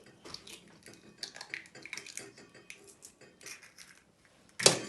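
Eggs are cracked against a bowl during a reception-class baking session: soft taps and clinks come in small clusters, then a single sharp, loud crack closes the sequence.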